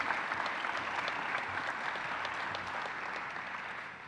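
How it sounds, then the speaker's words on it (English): An audience at a graduation ceremony applauds, sustained even clapping from a large crowd that holds steady and fades slightly toward the end. "Please give them a huge round of applause."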